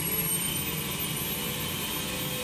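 A SubSonex personal jet's engine spooling up during start, a loud steady turbine roar with a high whine held evenly throughout, with no voices over it.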